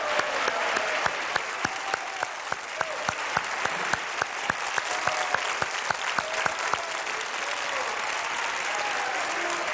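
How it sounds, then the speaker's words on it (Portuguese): Audience applause greets three candidates at a 2010 Rio de Janeiro gubernatorial televised debate, a dense sustained wash of many hands clapping with sharp individual claps standing out, steady and fairly loud throughout with no talking. "quando peço uma salva de palmas aos 3 candidatos que democraticamente vão debater projetos"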